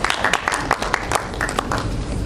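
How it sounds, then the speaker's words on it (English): A lecture hall audience claps in short, uneven bursts, several distinct hand claps standing out above a noisy, rumbling room background for a couple of seconds. "round of applause."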